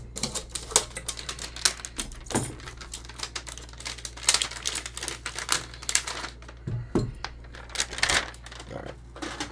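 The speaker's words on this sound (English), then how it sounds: "I'm only using scissors to get into this part of it." Rapid irregular snipping and crinkling, like scissors cutting through plastic packaging, close up with short bursts and brief pauses.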